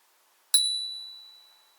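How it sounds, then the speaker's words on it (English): A single bright ding from a handlebar bell on an electric unicycle, sharp strike followed by a long clear ringing tone that slowly fades, alone in a quiet outdoor setting in a park area. "I have my run bell"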